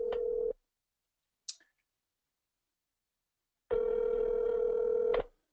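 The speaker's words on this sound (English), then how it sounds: "I'm going to go ahead and select Place Call, and I'm going to show you all what a call looks like." A phone call placed through a calling tool: a short electronic tone, a faint click, then after a pause a long, steady ringback tone. The line stays clean and quiet, with no voices.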